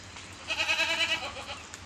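A goat bleating on a goat farm out in the fields: one wavering, nasal bleat lasting under a second, moderately close, over a quiet outdoor background.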